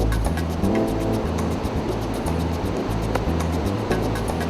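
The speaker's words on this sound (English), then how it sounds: "Look at the surf though." High, heavy ocean surf rolls and crashes onto a beach at high tide, a loud, continuous wash of breaking waves with low rumbling pulses throughout, no voices.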